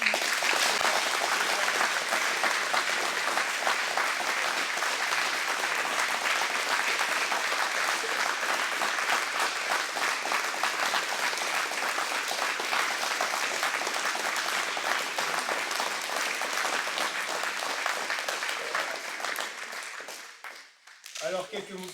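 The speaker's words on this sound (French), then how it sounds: "Et vous pouvez l'applaudir sans limite." Sustained audience applause for a 17-year-old newly awarded black belt, dense and steady for about twenty seconds before tapering off near the end.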